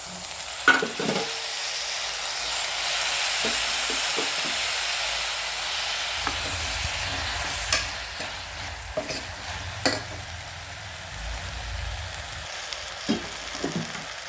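Tomato goes into a pan of frying pulao, giving a steady close sizzle and hiss with occasional scraping stirs and clinks, no voices.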